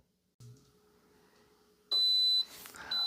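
An Instant Pot Duo Evo electric pressure cooker sounds its timer-end alert, a loud high-pitched electronic beep held for about half a second, then a second beep after a short gap, close by with faint kitchen noise around it.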